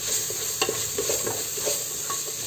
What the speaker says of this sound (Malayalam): 1 ടീസ്പൂണോളം ബിരിയാണി മസാല അതിലേക്ക് ചേർത്തിട്ട് നമുക്ക് നന്നായിട്ട് ഇളക്കി യോജിപ്പിച്ച് കൊടുക്കാം